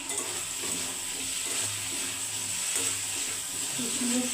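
Raw fish heads go into a pan of frying cumin, tomato and onion paste, and a steady loud sizzle runs throughout with soft stirring scrapes.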